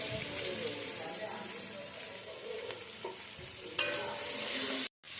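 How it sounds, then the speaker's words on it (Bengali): Chopped capsicum, tomato, onion and green chili fry gently in a pan with a steady soft sizzle and occasional stirring scrapes, ending in a brief louder hiss and a short silence. "এগুলো একটু হালকা হালকা করে ভেজে নিচ্ছি"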